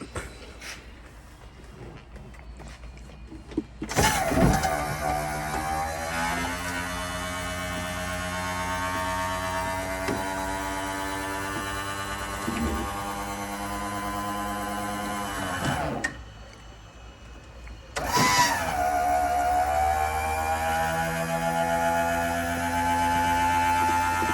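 Hydraulic pump of a 1969 Buick Skylark convertible top running: a steady electric whine and hum lasting many seconds, stopping briefly, then starting again for another sustained run.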